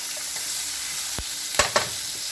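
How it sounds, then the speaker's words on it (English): Chicken and bell peppers sizzle in a hot pan as a utensil stirs them, with a steady frying hiss and a few sharp scraping stirs near the end, no talking. "Now it's going to be totally up to you how long you want to cook your peppers."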